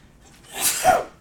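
A single close sneeze: a short intake of breath building to one sharp, explosive burst, then a quick fade.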